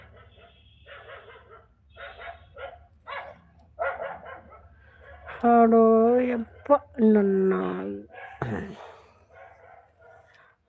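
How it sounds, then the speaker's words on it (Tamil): A household dog barks and yips in short bursts close by, interleaved with a person speaking and a drawn-out whining, sing-song call partway through. "நாய் இருக்குது எங்கள் வீட்டில் பிடிச்சின்னு போகிறீங்களா இந்த நாய் தொல்லை தாங்கவே முடியல"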